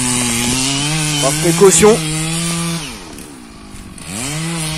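A Stihl MS 660 chainsaw fells a poplar tree. The saw whines steadily and close, dips, then revs again, while a person speaks briefly over it.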